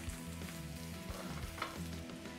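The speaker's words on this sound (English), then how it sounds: "So as the kale is sauteing here" Kale sautés in a pan, giving a low, even sizzle with soft clatter from stirring and a faint hum beneath.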